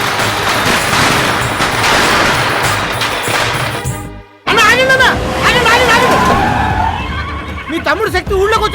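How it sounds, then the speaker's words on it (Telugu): Firecrackers burst in a Telugu action film scene, a dense rapid crackle of pops over crowd babble for several seconds, then after a brief gap louder shouting voices and a horse-like whinny over continuing noise. "అదిగో టపాసులు శబ్దం అనిపిస్తుంది."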